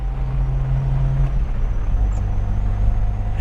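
A Lada 2103 car accelerating, its engine drone humming steadily with a low tone that shifts partway through as the revs change, heard from inside the cabin.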